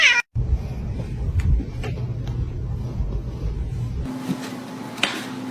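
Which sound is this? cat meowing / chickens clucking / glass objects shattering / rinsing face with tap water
cat meowing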